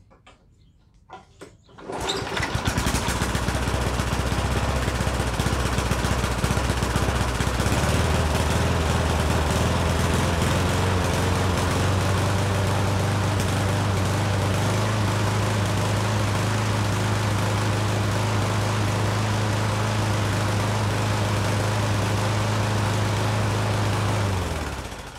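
A Toro lawn mower with a Tecumseh engine is started after a pull rope replacement. It catches after a brief pull, then runs loud and steady, its hum shifting slightly as it settles.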